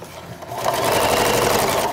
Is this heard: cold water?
no